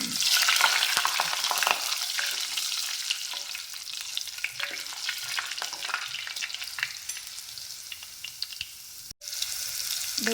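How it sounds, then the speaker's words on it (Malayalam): Mustard and fenugreek seeds splutter in hot oil in a pan: a loud, close, continuous sizzle crowded with sharp crackling pops, and no talking. "കടുകൊക്കെ പൊട്ടിയപ്പോൾ ഒരു 4 മണി ഉലുവ മണി ഇട്ട് കൊടുക്കുന്നുണ്ട് കേട്ടോ."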